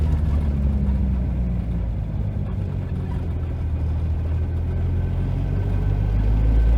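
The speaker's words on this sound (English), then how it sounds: "All right, 1000 RPM in fourth. Flooring it." A 2JZ-engined car with a Tilton ST246 clutch accelerates at full throttle in fourth gear from about 1000 RPM, a steady low, heavy engine rumble droning close by throughout.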